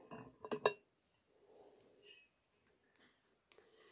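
A small faience citrus press, handmade glazed ceramic, is handled and set down, with a quick cluster of sharp clinks and taps up front followed by softer scrapes and a couple of faint knocks.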